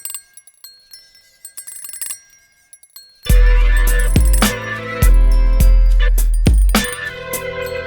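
Bright metallic chime tones ring sparsely, then a loud beat kicks in with booming bass hits while the chimes keep ringing through the music.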